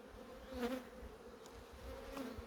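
Bees humming around an open beehive, a faint, wavering drone as insects fly near and away, rising briefly a few times.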